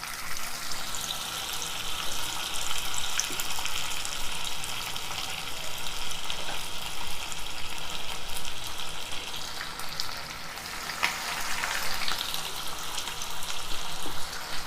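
Chicken legs frying in hot oil in a kadai, a steady loud sizzle and crackle that runs without a break, with brief bubbling surges.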